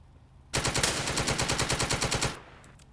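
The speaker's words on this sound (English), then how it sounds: "I'm gonna open fire on this hex right there." A long automatic burst of gunfire from a military tank in The Troop, a UK forces strategy game, cuts in sharply, hammers in a rapid, even rhythm for about two seconds, then stops and leaves a faint tail.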